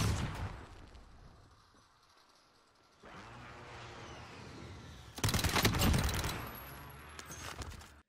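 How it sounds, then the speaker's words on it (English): Enemy gunfire in the Warzone video game: a fading burst at the start, then a quieter stretch, followed by a loud rapid volley of automatic shots and scattered rattling, with no talk. "Oh, he's actually shooting at you."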